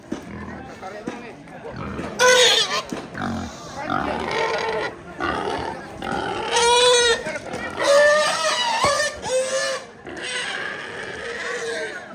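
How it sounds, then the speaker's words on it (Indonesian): Pigs being shared out for meat at a Rambu Solo' funeral ceremony in Batualang, grunting and squealing loudly in repeated bursts, mixed with crowd voices and people talking throughout. "Babi."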